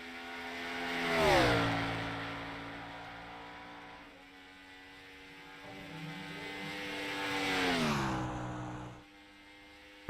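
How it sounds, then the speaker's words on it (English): Race car engines in a Gen4 sim racing video game scream past at high speed, rising and falling in pitch as cars sweep by in two distinct passes under a steady engine drone. "Just listen to the sound of those engines."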